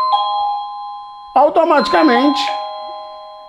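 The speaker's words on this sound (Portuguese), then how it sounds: "aqui também faz até um som de campainha" Chime from a Tuya smart Wi-Fi video doorbell's indoor unit, a sustained two-tone ding-dong ringing clearly near the start and continuing faintly beneath a person talking afterward.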